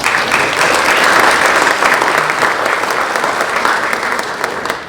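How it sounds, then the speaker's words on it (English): An audience at a foundation's fall grant celebration in a performing arts hall bursts into loud, sustained applause, dense clapping that holds steady throughout and tapers slightly at the end. "let's give them a round of applause."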